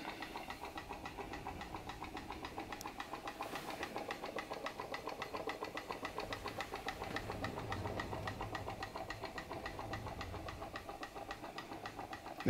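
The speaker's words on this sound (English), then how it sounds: "A PMR research glass engine working a Baker fan at a really nice speed." A PMR research glass Stirling engine, solar powered, drives a Baker fan at a steady speed, giving a faint, continuous mechanical whir with a fine repetitive ticking throughout and no talking.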